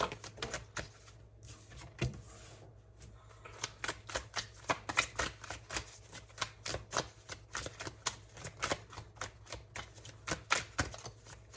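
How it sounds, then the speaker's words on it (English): Tarot cards being shuffled up close, rapid crisp riffling and flicking in steady bursts, with a brief quieter pause early on. "I'm just going to keep shuffling until we get about 4 more cards"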